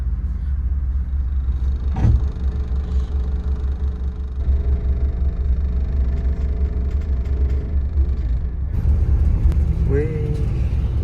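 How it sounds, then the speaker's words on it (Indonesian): Buses idling at Poris bus terminal give a steady low engine rumble throughout, with occasional clunks and faint voices in the background. "Masuk terminal Moris, banyak bus yang parkir teman-teman."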